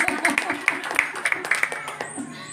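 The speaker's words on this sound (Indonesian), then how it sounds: "tepuk tangan buat Bapak." At an Islamic religious lecture, a small audience claps for the speaker, giving sharp, distinct, scattered claps in an irregular patter that thins out toward the end, with faint voices underneath.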